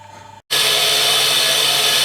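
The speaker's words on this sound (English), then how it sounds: "as I was grinding a second centre punch" A bench tool grinder grinds a centre punch, a loud, close, harsh whirring rush that kicks in abruptly after a short quieter hum and a split-second gap.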